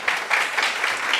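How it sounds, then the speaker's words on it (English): An audience at a university optometry research presentation breaks into brief, dense applause, a steady wash of many hands clapping close by. "A round of applause for him."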